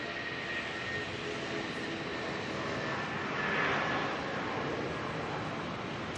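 An airliner rolls out for departure to Wellington at Auckland Airport, giving a steady, fairly distant broadband jet roar that swells slightly midway, with no talking.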